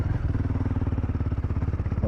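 A Royal Enfield Himalayan 450 with a Power Rage aftermarket exhaust accelerates on a highway, its engine note loud and close, with a steady rapid thumping pulse throughout.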